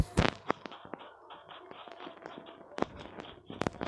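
Distant gunfire crackles in a shooter video game, scattered sharp cracks and short bursts at irregular intervals, faint and far off.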